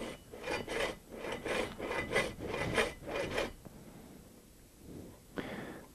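A blade rasps through a pipe while making the first cut of an inverted-T cell, giving about a dozen rhythmic scraping strokes over three and a half seconds. A pause follows, then a couple of fainter rubs.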